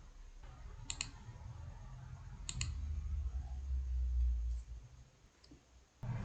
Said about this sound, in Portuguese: eu vou aqui dar 2 cliques em cadastro, para abrir o banco de dados cadastro